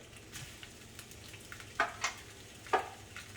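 Fresh rice noodles with shrimp and vegetables stir-fry quietly in a pan, a soft, faint sizzle broken by a few sharp scraping clicks from the stirring.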